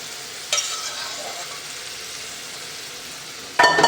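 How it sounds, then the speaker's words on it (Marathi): Sprouted legume usal frying in oil with masala: a continuous, fairly loud sizzle heard up close. Bright bursts come as food is stirred or added near the start and again at the end, with no talking. "उसळ काढून आणि ती टाकायची ती तेलामध्ये थोडीशी फ्राय होऊ द्यायची"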